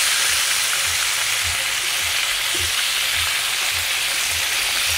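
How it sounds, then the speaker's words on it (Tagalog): A carp frying in a pan gives off a loud, dense sizzle that runs without a break, with faint low thumps under it as the fish is flipped. "Baliktarin na natin ang ating isda. Isdang karpa."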